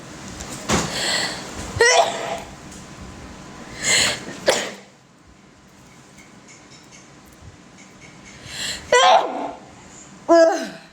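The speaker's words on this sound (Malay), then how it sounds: "Bersin pun kena style." A woman sneezes several times in a home, sharp bursts spread across the span with short breaths and rustles between them, fairly close and loud, with no talking.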